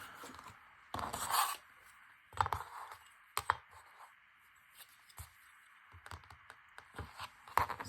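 Scissors snip through second-hand linen to cut fabric strips, giving short, faint crisp cuts and rustling cloth in uneven bursts close by, with quiet pauses between.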